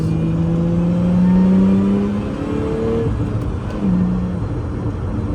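A Lotus Emira accelerates hard down a race track's front straight, its engine note climbing steadily in pitch, drops briefly at a gear change, then climbs again, loud and close from inside the car.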